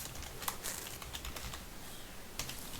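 Quiet, steady typing on a computer keyboard during a coding session, a run of soft irregular key clicks with a few sharper taps, close but low in level.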